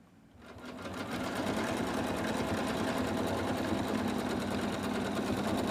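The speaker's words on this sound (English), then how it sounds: "now it's ready to go in the machine for the final stitch out" An embroidery sewing machine runs a final in-the-hoop stitch-out for a monster design, starting after a brief quiet moment and settling into a steady, loud, rapid mechanical whir and clatter that continues without pause.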